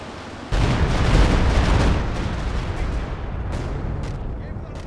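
A Walking Stuka rocket barrage in Company of Heroes 2 pounds in as a loud, continuous roar of explosions that flares suddenly and then holds dense and sustained, with a few sharper hits later on.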